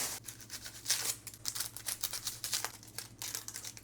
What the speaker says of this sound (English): Now let's peel our onions.